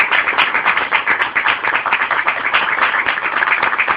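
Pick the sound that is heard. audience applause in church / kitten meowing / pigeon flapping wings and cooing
audience applause in church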